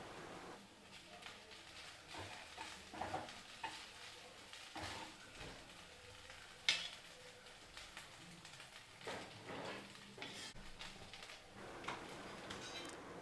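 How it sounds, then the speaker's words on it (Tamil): Street-style vegetable fried rice being stirred in a pan, cooked rice mixed through finely chopped fried vegetables, with steady scraping and stirring over a soft sizzle and intermittent talk. "இப்போது சாதத்தை இது கூட சேர்த்து கிளறிக்கலாம்."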